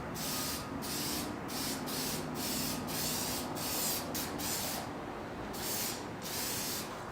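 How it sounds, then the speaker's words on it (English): A spray gun hisses lacquer onto a wooden tray in a series of short, regular bursts with brief pauses between, a steady mist-like spray repeated over and over. "whenever I say I'm going to finish it with lacquer, I usually have a clip of me spraying it"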